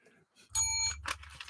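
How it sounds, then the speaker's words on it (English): A bell rings once during a sports-results radio broadcast, a bright struck tone with a sustained ring that fades under a low background hum. "thank you for the bell."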